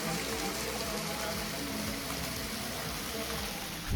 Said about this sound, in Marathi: इथे खूप सारे शिवलिंग आहेत आणि त्यांच्यावर पाण्याचा असं सतत अभिषेक सुरू असतो